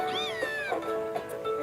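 A cat in Pokémon Ultra Moon gives a few short, bright meows in quick succession, heard alone and close.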